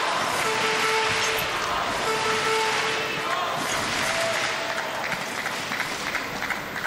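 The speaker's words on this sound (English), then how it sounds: "thousands of other table tennis fans cheer him on" Table tennis fans at the 2017 World Table Tennis Championships, a men's singles match between Marcos Freitas and Timo Boll, clapping and cheering in a dense wash of applause that fills the hall and slowly thins toward the end.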